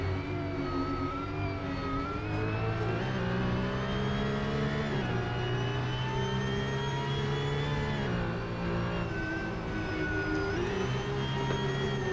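Porsche 911 GT3 992 Cup race cars scream around a track at a race meeting, high-pitched engine wails rising and falling through gear changes, steady and fairly distant, with no talk.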